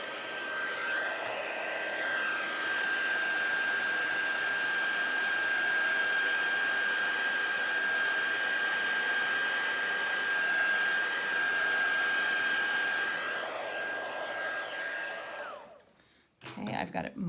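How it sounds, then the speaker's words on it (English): A heat tool blows a steady, loud stream of air over alcohol ink to dry it, a continuous whirring hiss lasting about fifteen seconds before it switches off with a clatter. "You see that the air from the heat tool will move it around too."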